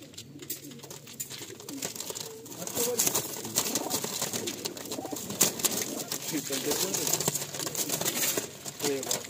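High-flying pigeons kept in lofts coo continuously at close range over a steady noisy background, with a voice speaking now and then.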